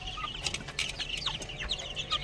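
Fayoumi chickens clucking nearby, a run of short repeated clucks and chirps over a low steady background hum, with no people talking.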